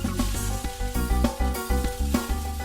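Pork innards sauté in a pan, sizzling and frying with soft stirring scrapes and a steady hiss, close by and moderately loud, with no voices.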